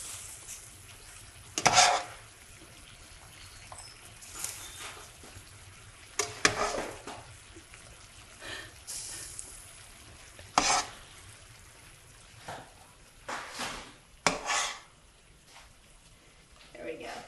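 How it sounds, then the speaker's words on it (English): Dry pasta tipped into a pan of sauce for pasta alla gricia, then stirred: scattered scraping and clattering bursts with a soft sizzle underneath, occasional louder clanks against the pan, moderately close. "we're gonna add the pasta directly into the sauce"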